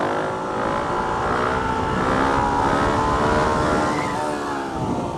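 A dirt bike engine holds a sustained drone in second gear during a wheelie, its pitch climbing slightly then easing back off, loud and steady throughout with no talk over it.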